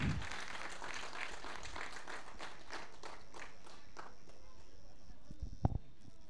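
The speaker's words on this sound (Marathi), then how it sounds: "जरूर या संघासाठी टाळ्या होऊन जाऊ द्या" A crowd at a village cricket tournament prize ceremony applauds the third-place team with steady, dense clapping that fades out, followed by a couple of sharp knocks near the end.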